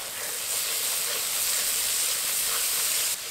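Spice masala for a Bengali koi fish curry fries in a hot pan with a steady, loud hiss and sizzle that holds evenly from start to finish with no voices.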